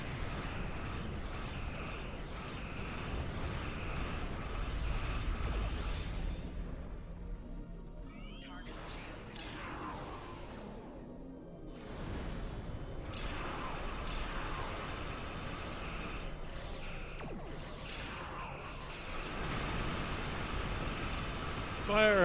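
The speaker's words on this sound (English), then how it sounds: "I like my cannons." Starship cannons firing in the space-combat game Star Trek Online: repeated booming, mechanical bursts of weapon fire against a dense battle din, with voices heard intermittently.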